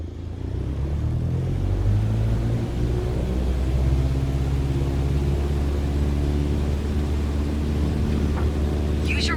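Aircraft engine at full takeoff power in Microsoft Flight Simulator: a loud, steady droning rumble that climbs in pitch early on, then holds a continuous roar throughout.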